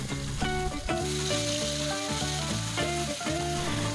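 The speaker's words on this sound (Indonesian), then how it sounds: "Panaskan minyak secukupnya aja untuk menumis bumbu, dan kita masukkan bumbu yang udah kita haluskan" Ground spice paste sautéing in hot oil, a dense steady sizzle close by with a rhythmic repeating tonal pattern over it and no talking.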